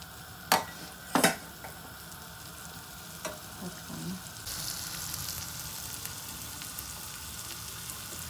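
A dosa frying with butter on a large hot pan, giving a soft steady sizzle that grows a little stronger partway through, with a few sharp utensil clinks near the start.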